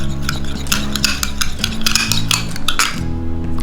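A spoon scrapes and clinks against a bowl while aloe vera serum is stirred, a quick series of close clatters over steady background music.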